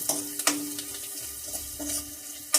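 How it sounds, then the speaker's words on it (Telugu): Tempering spices, with asafoetida, fry in hot oil until red for a gongura fry: a close, continuous sizzle with sharp spattering bursts near the start, middle and end. "పోపు బాగా ఎర్రగా వేయించుకోవాలి."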